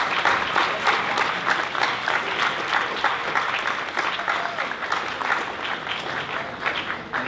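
A school audience at a morning meeting applauds teachers and nurses: dense, steady clapping from a crowd that holds at an even level from start to finish.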